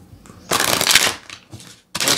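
A deck of tarot cards being shuffled at close range, with several loud riffling bursts separated by brief pauses and no voices.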